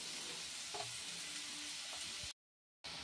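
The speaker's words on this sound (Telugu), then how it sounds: "ఇంకా ఫ్రై అవనిద్దాం." Chopped onions sizzle softly in a pan for rajma masala, a faint, steady frying hiss with an occasional stir, broken by a short stretch of total silence near the end.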